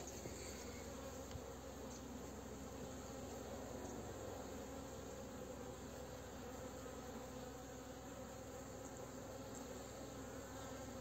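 Honeybees swarm around their hive on a late-season inspection before wintering, a dense steady buzz filling the air without pause, busy and continuous throughout.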